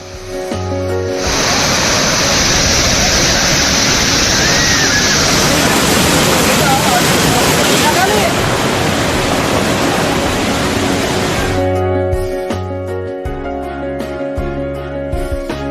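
Hogenakkal waterfall on the Kaveri river roars as a loud, broad, continuous rush of falling water that fills most of the stretch before dropping away near the end.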